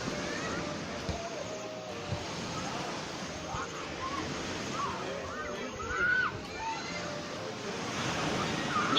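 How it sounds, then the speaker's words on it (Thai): Sea waves surging against a rocky private island shore, a continuous rushing wash of surf with wind noise and occasional swells, with people talking over it. "เขาเล่นน้ำทะเลกันแล้วเขาแบบ กลัวคลื่นอ่ะ เสียงดังมาก"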